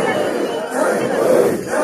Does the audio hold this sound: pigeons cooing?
no